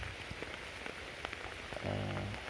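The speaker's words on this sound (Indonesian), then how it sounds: "hujannya deras" Heavy rain beats down on a surface outdoors at a fishing spot, a steady dense hiss throughout, with a low humming tone rising near the end.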